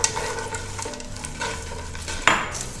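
Popcorn being stirred with melted caramel sugar in a non-stick pan, soft scraping and gentle crackle with light utensil clicks, ending in a sharper clatter near the end, no talking.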